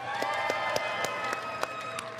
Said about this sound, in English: cheer if you want to see Power Cosmic